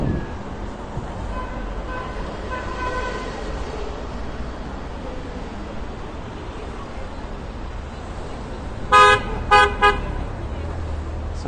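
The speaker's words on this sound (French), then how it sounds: "Ça klaxonne." On a busy Paris street, a car horn sounds several short honks near the end over a steady murmur of traffic and city noise.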